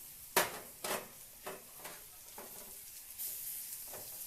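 Onions frying in oil in a pan while being stirred: soft sizzling with a few sharp scraping or clinking stir strokes at a steady pace, close by, no talking.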